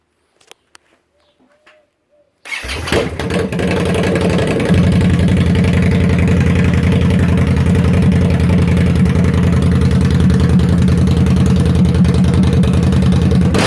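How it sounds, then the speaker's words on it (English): A 2017 Victory Octane motorcycle with its mufflers removed fires up after a few quiet clicks, then settles into a loud, raw, steady idle that runs on unbroken. "we're going to start it up with no exhaust on it, no mufflers"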